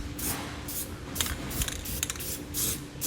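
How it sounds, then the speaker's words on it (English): Spray paint hisses onto the frame of a 2012 Ram 2500 truck to stop rust, coming in several short, close bursts of aerosol spray with brief gaps between them. "not a bad idea to hit it with a little spray paint to stop that rust"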